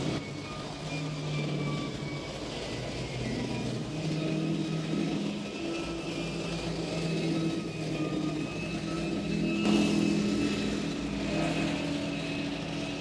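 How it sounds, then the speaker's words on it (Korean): A steady, heavy mechanical roar and rumble of military tanks rolling past on a road near a frontline house, sustained for the whole stretch with continuous engine drone and track noise at moderate distance. "매일 우리 집 앞에 탱크가 지나다녀가지고 저렇게 시끄러워요"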